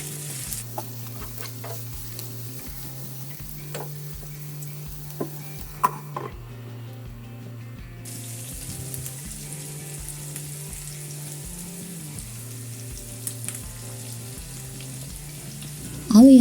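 Onion and bell pepper frying in a pan while being stirred, a soft steady sizzle with light scraping strokes and a low background hum running throughout.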